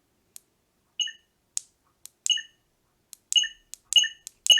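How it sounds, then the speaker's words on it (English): A series of electronic beeps from a Sabertrio Senza lightsaber as its volume is raised to maximum, sparse at first and then coming faster and louder, in otherwise silent surroundings. "You hear the beep getting louder."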